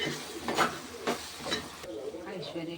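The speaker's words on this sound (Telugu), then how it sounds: "ఉల్లిపాయ ముక్కలు బ్రౌన్ కలర్లోకి వచ్చే వరకు వేయించుకుందాము." Onion pieces frying in a pan, a soft sizzle with three or four spatula scrapes in a loose rhythm, fairly quiet throughout.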